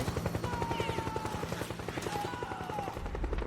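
A helicopter in Metal Gear Solid 4 thumps with a rapid, steady rotor pulse, loud and continuous, while a voice talks over it and a low rumble swells near the end.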